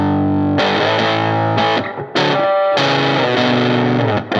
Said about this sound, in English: Sounds to me like we're more into gritty overdrive territory.